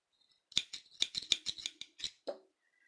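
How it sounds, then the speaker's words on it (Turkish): Scissors snip through crochet yarn during bead-and-sequin snowflake lace work, a quick run of sharp close clicks and cuts followed by a final softer snip, in otherwise quiet surroundings. "Şu ipimizi şuradan keselim arkadaşlar."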